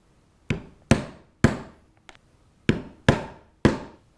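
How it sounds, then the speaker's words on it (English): An 1/8 inch drive punch struck with a mallet through leather on a cutting board, seven sharp close knocks at an uneven pace, one of them lighter, each fading quickly into silence. "now let's go ahead and use our 1/8 inch drive punch to punch those holes"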